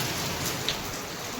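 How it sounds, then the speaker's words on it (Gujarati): Heavy monsoon rain in Surat pours down in a dense, continuous hiss and patter on surfaces close by, unbroken and fairly loud, with no voices. "એટલો વરસાદ છે અમારે અહીંયા."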